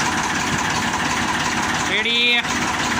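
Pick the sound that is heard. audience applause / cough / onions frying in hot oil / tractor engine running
tractor engine running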